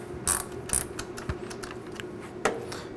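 Metallic ratcheting clicks from a drill chuck being tightened, a few sharp snaps and a steady mechanical rattle, close by with no talking.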